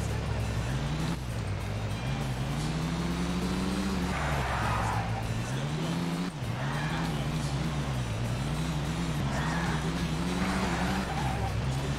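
A car driving in Tony Hawk's Underground, its engine droning steadily and loudly throughout with rising and falling pitch as it revs and shifts, close and continuous, with talk over it.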